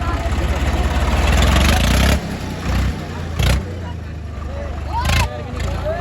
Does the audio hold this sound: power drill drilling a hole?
no